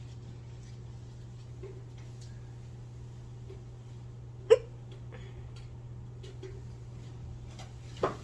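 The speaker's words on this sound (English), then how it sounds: "I have the hiccups." A girl hiccups sharply twice, once midway and once near the end, each a brief isolated gasp against a quiet room with a steady low hum and no talking.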